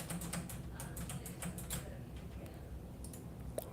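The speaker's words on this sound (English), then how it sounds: "Typing." Quick clicking keystrokes on a computer keyboard, faint and close, in a rapid burst that thins out into scattered taps.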